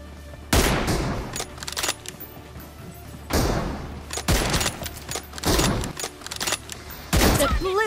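Rapid gunfire bursts in the battle-royale shooter BGMI come as loud, repeated volleys with short pauses between them across the whole stretch, with heavy thumps mixed in.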